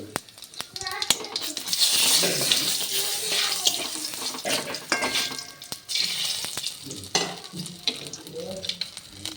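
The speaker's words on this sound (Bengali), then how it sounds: "ফোড়নের জন্য দিয়ে দিচ্ছি দুটো শুকনো লঙ্কা একটু রাঁধুনি দিয়ে দিচ্ছি একটু জিরে" Dried red chillies, radhuni and cumin dropped into hot oil for tempering, giving a loud, sustained crackling sizzle close by, with clatter of utensils and a voice talking over it.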